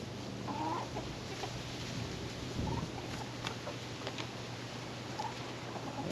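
Chickens, including a crossbred hen, cluck softly and intermittently at close range over a steady background hum, with occasional brief higher calls.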